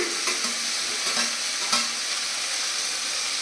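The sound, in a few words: stirring and sautéing vegetables in a pan for sambar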